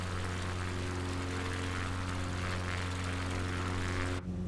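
A propeller aircraft engine over-revs in MS Flight Simulator on a Patagonia bush flight, a steady, loud droning hum with strong tonal harmonics that cuts off abruptly near the end.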